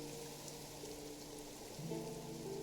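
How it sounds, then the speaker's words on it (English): Rain falls in the video game Genshin Impact as a soft, steady patter with a faint musical tone underneath and no speech, quiet throughout. "Oh, it's raining."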